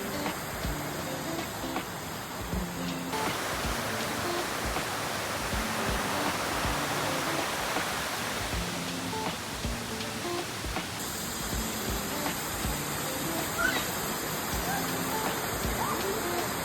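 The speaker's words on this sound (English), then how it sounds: "Another little waterfall, y'all. So pretty." Amicalola Falls in the North Georgia mountains rushes as a steady, broad water roar, with people talking faintly over it.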